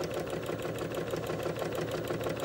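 A sewing machine stitches a straight seam on a flower garden quilt block, a steady, fast mechanical hum and rattle running continuously and close up with no talking.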